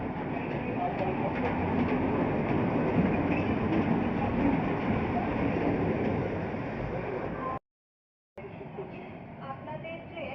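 A train stands at a station platform with a continuous, moderately loud rumble and hum of rail noise, voices mixed in, and a brief silent gap near the end.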